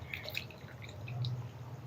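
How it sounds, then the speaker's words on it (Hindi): Water poured into a bowl of nihari spice mix, a soft trickle and faint drips close by with a light steady splash underneath, quiet and brief. "अब इसमें पानी डालेंगे।"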